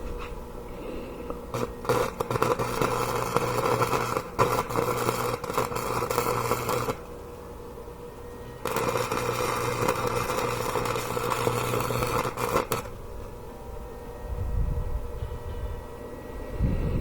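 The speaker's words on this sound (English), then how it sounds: "Starting to weld." A MIG welder tacks steel pieces together for a Damascus knife blade, with two long bursts of crackling, buzzing arc noise separated by a short pause, followed by quieter handling sounds.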